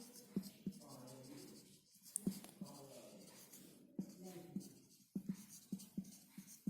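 Handwriting on paper, likely pen strokes while working a division problem, several short scratchy taps and strokes in irregular bursts, close and quiet, with a voice murmuring faintly in between.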